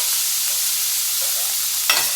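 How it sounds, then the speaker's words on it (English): Onion dropped into a hot oiled pan sizzles loudly and steadily, a dense frying hiss throughout with a brief stir near the end, close and alone. "So in go the onion"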